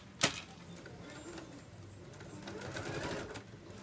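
A sewing machine stitches a safety seam on a homemade insulated lunch bag, its needle running in a quick, steady whir after a sharp click at the start, fairly quiet and close.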